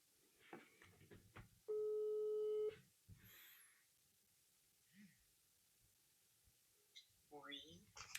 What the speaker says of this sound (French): maintenant, on va appeler la personne qui s'est occupée de l'affiche du film